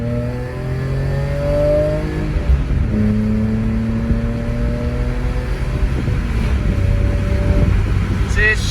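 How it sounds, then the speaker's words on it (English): A BMW E46 M3 with an SMG gearbox revs up at a green light, its engine pitch climbing in several rising sweeps between shifts, loud and close, with a voice talking over parts of it. "I'm gonna see if during this green light I can rev it up a good bit."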